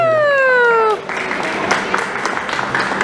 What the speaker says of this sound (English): Can I get a round of applause for Dive Buddy?